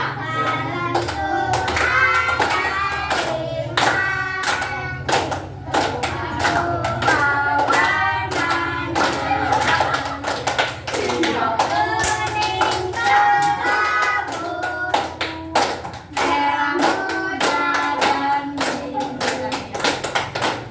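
Steady rhythmic hand clapping keeps time as a group sings a children's song together during a classroom read-aloud session, the claps sharp and close, running continuously under the voices.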